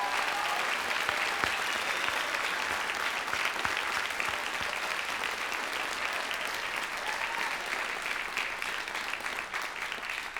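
An audience at a high school junior and senior awards night applauds steadily for about ten seconds, a dense, sustained wash of clapping at even loudness with no talking over it.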